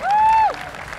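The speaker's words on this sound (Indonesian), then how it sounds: "Ayo dong, kasih tepuk tangan dong" A crowd at a streetball All Star Challenge in Banjarmasin bursts into brief, loud applause, with a sustained whistle-like tone riding over the start before the clapping settles into a dense wash.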